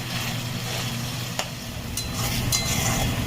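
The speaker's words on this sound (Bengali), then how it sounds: "আরও 2 মিনিট আমি কষে নেব।" Chicken stir-fried with onion and ginger-garlic paste for chicken kosha, a dense continuous sizzle with a low hum beneath and a couple of brief utensil clicks, close by and without speech.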